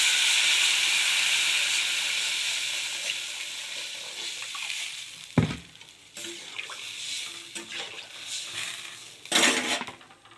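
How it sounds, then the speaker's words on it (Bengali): Water poured into a hot cooking pan, giving a strong steady sizzle and hiss that fades gradually, with a few clinks of a utensil against the pan near the end. "এবার আমি এর মধ্যে জল দিয়ে দেবো।"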